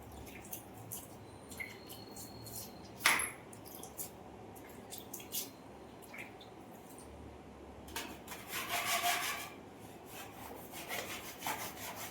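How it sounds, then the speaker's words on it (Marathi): Dried putty on an interior hall wall is rubbed down after being dampened, producing intermittent scraping and rasping strokes at close range, with a sharp knock partway through and a busier stretch of rubbing near the end. "ज्याच्याने आपण पुट्टी लावली ना त्याच्याने आता घासून काढायला थोडंसं ओलं करायचं"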